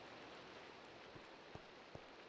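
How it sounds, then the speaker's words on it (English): Steady Minecraft rainfall hisses evenly across the whole stretch, a constant wash of drops on surfaces with a couple of faint thuds, no voices. "That's the thing about my area, it just constantly wants to rain."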